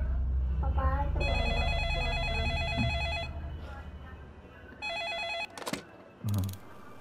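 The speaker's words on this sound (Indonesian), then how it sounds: "Oh no, ada telepon telepon telepon." A telephone rings in the Roblox game Home Alone Story, a loud electronic trilling ring in two bursts, heard alongside children talking and game sounds.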